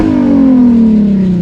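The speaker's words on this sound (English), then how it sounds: "the next door neighbor ends up flexing his V8 with open headers" Neighbor's Jeep with a V8 and open headers revving loud and close, a single sustained roar whose pitch slides slowly downward over a second and a half.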